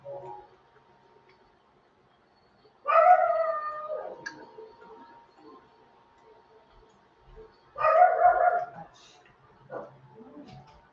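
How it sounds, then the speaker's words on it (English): A dog barks in two separate bursts with long pauses between, the calls drawn out and somewhat howl-like, at moderate distance. "What's Tula barking at?"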